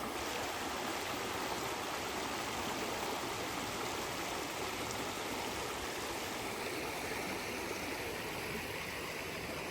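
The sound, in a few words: river stream flowing on mountain hiking trail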